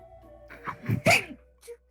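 One close sneeze with a quick breathy lead-in erupts mid-session at a tabletop role-playing game, loud and brief, followed by a faint trailing sound.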